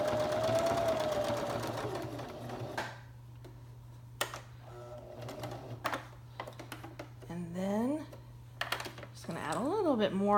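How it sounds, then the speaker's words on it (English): A sewing machine stitches leaf veins into a scrap fabric quilted leaf, a rapid mechanical whir in short bursts separated by pauses, with someone talking over and between the stitching. "I'm going to come up the middle to do the veins of the leaf. I don't even cut my threads at this point, I just keep sewing"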